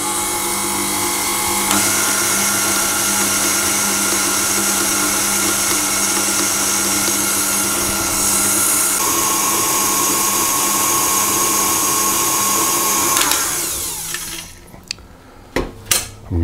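An electric mixer beats golden syrup cupcake batter in a steady loud whir with a slight change in pitch partway, then cuts off near the end, leaving a few knocks.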